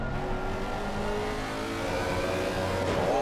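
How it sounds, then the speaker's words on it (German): A Lexus race car engine roars steadily in a sim racing game during a Sprint Cup race at Oulton Park, holding a loud, continuous drone with pitch rising toward the end. "Ah, Lexus klingt immer noch gut, muss man sagen."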